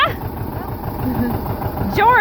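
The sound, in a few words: John Deere 35 tractor engine running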